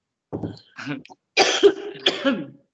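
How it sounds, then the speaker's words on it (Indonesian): Several short, harsh coughs in quick succession, close and fairly loud, with brief pauses between bursts. "Saya batuk nih"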